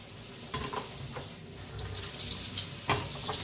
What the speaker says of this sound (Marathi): वडे तळायला लागलेले आहे आपले